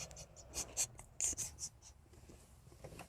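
A pen or pencil writes on paper in a quiet room, a few soft close scratchy strokes in short bursts, then fading to faint rustle.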